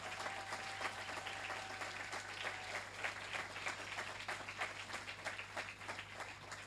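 A crowd applauds at a distance, a soft steady patter of clapping over a low hum.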